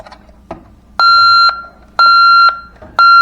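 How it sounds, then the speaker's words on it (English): A smoke detector on a Vista-20P fire alarm system sounds loud, shrill electronic beeps in a repeating pattern of half-second bursts, with a softer clicking tone between them. "There's our fire alarm."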